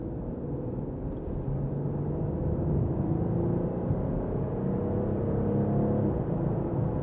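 A 2017 Porsche Cayenne gathers speed on the road, heard from inside as a smooth, steady low engine hum and road rumble that rises gently, with no voices over it.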